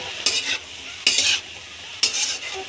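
Cabbage, potato and fish head being stir-fried in a pan: three distinct scraping stirs at steady intervals, each a bright rustling sweep over a low background sizzle, close and clear with no voices.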